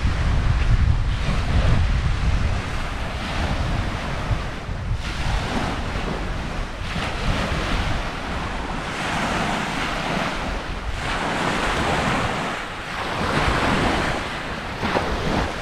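Waves breaking on the Lake Erie shore at Point Pelee National Park, a continuous close wash of surf with heavy wind buffeting the microphone throughout.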